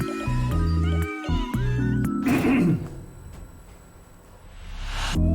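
Cartoon cat meows in a mobile game advertisement with ninja cats, several tonal mewing calls over bright music, followed by a burst of whooshing effects, all fairly loud and up close.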